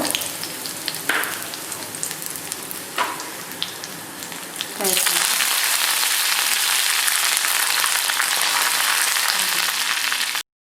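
Dried red chillies dropped into hot oil already holding mustard seeds and fenugreek, setting off a loud, steady, close sizzle that swells suddenly midway and holds to the end, with faint crackles before it.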